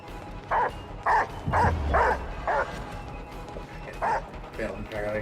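The hound in the Dead by Daylight video game gives a run of short, sharp barks at an irregular pace, loud and close, with a voice talking during part of the sequence.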